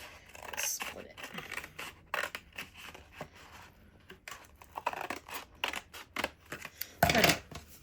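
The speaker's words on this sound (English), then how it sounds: "I'm gonna cut this one with scissors just because I can." Scissors snip through scraps of everyday junk paper and packaging being prepped for a journal, with soft crisp cuts spread through the clip and a louder, sharper burst of cutting near the end; a voice talks quietly underneath.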